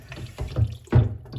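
Hot water running and splashing while small parts are washed in it, coming in short uneven sloshing bursts, close and fairly loud.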